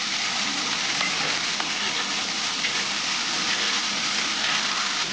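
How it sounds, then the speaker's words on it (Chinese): Food stir-fried in a wok in a rural home kitchen: a steady, loud, hissing sizzle that holds without a break, close and continuous. "好，给炒一下。"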